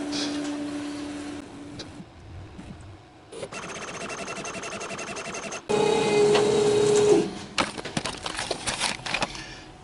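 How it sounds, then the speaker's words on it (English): A Hosonsoft bidirectional UV printer runs calibration lines, its print carriage whirring and clattering mechanically in bursts, with a louder steady tone from the print head's passes midway through; no talking is heard. "I'm going to go ahead and print these 2 lines right now"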